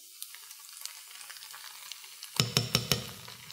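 Tomato paste hitting a hot sauce pan for lasagna sauce, a soft low sizzle that suddenly swells into a burst of crackling and spattering pops, close up, with no talk.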